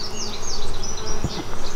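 Honeybees buzz steadily and loudly around an open hive during an inspection. A dense, continuous hum is broken by brief close passes of individual bees.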